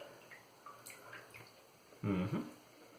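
Water splashes and trickles briefly into a shaving bowl after a stretch of faint quiet dripping, a short close burst of liquid.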